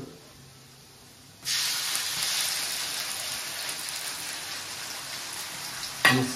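Onions and ginger-garlic paste sizzle in a hot pan for prawn curry, a quiet hiss that surges into loud, steady frying and carries on alone to the end.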